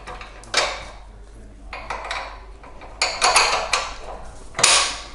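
Metal bolts being tightened on the seat of a Jazzy Select power wheelchair, with several short bursts of clinking and ratcheting metal separated by quiet gaps, close up.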